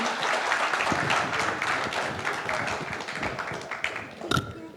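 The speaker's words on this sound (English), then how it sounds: "a warm round of applause to my panelists" Audience applause for panelists at the Doha Forum, a dense round of clapping from a seated crowd that stays strong, then thins slightly before a final sharp clap.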